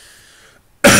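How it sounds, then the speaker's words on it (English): A single sharp, loud cough bursts out at the very end after near silence. "Excuse me for the cough."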